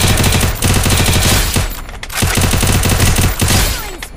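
UMP submachine gun fire in the video game Free Fire, loud sustained bursts of rapid shots in close succession, broken by brief pauses between volleys.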